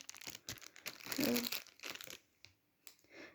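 Plastic packet holding embroidery threads being handled, giving soft, close crinkling and rustling in short bursts, fairly faint and with no talk over it.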